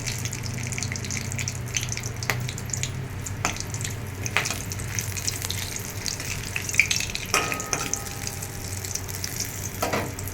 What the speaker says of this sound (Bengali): তার মধ্যে গরম মশলা অ্যাড করে দিলাম এবার এটা জাস্ট একটুখানি দশ সেকেন্ডের মতো একটু ভেজে নেবো